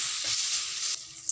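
Green peas stirred into frying cumin powder, turmeric and salt in a pan, producing a close, continuous sizzle with a brief stirring scrape, the hiss thinning slightly near the end.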